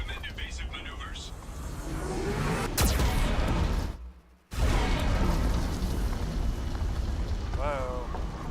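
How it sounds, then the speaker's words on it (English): Geth cannon blasts in the game Mass Effect 2, heavy booming explosions with rumbling aftermath, one sharp hit followed by a sudden cutout and renewed roar, under a synthetic warning voice. "Warning, Geth cannon is locking on our location."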